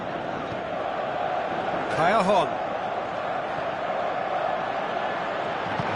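Stadium crowd noise from a football video game on PS4, a steady broad roar that swells briefly, running under a commentator's voice.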